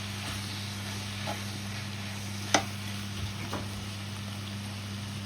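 Cumin powder and spices being stirred in a pan for a mince-meat curry, a faint steady sizzle with a few soft scraping strokes and a low constant hum underneath.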